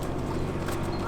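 Horse hooves clip-clopping steadily on arena footing during a show-jumping lesson, a continuous rhythmic beat close by over a dense low rumble.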